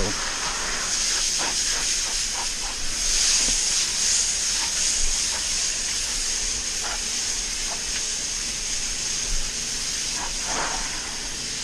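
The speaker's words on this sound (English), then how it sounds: "we're gonna rinse this off. Rinse the patio" A pressure washer sprays water across a muddy patio during a house wash, a continuous high hiss with steady pressure, sputtering and shifting as the stream moves, fairly close.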